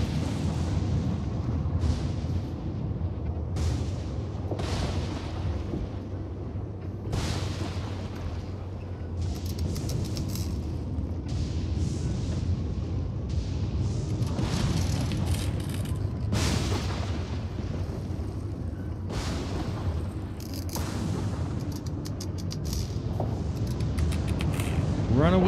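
Lightning strikes in a storm in the TerraTech Worlds survival game: repeated loud booming cracks at irregular intervals over a steady rumbling wind and game ambience, with a voice talking through parts of it.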